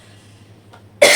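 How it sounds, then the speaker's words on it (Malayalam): A single sharp cough bursts out at the end, loud and close, after a second of quiet room hum. "ചുമ തുടങ്ങിയ പിന്നെ കുറേ നേരം ഇങ്ങനെ ചുമച്ചുകൊണ്ടിരിക്കും"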